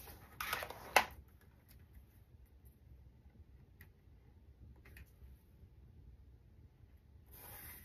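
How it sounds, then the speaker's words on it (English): A repositionable tape runner dabs adhesive onto paper for a fall scrapbook border: a brief cluster of soft, close ticking scrapes near the start, then near-silence with only faint scattered clicks. "I'm using my repositionable tape runner"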